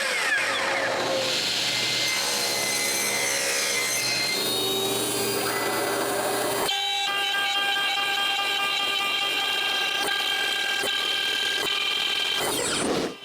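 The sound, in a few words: cutting wooden Christmas sled and reindeer decorations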